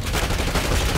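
Sustained gunfire from the Black Ops 6 shooter, loud and dense, with rapid overlapping shots filling the whole second and no pauses between bursts.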